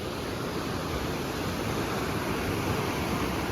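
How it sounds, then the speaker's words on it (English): A raging river rushes in the Yoho backcountry, a loud, steady broadband roar of churning water that never lets up, close by and with no voices. "More raging river."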